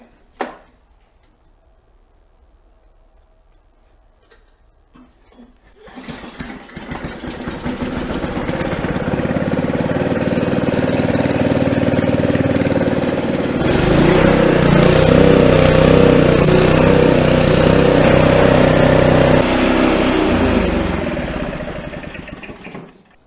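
A Craftsman snow blower engine starts and runs steadily at a loud, even idle with a mechanical ticking, swelling slightly louder midway as it keeps running without talk.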